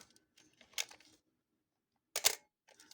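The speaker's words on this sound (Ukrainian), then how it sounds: "зводите затвор" Cocking the shutter of a Konica FP-1 film camera gives two crisp mechanical clicks with a brief whir, close and quiet, separated by about a second of near silence.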